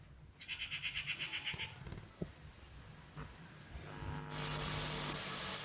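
Finely chopped small onions dropped into hot coconut oil, a faint sizzle that swells into a steady, louder hiss toward the end, after some quieter background handling sounds.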